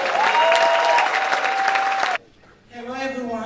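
Applause from an audience at a Haitian Heritage Month celebration in Miramar, Florida, greeting a senator: steady clapping for about two seconds, then it cuts off and a person begins speaking.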